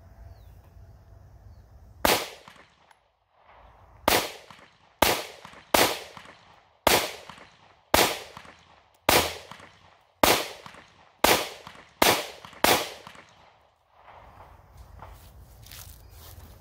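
A Taurus GX4 9mm pistol fires 115 grain standard pressure ammo outdoors on a range, about ten sharp, loud shots in an uneven string with short pauses between them.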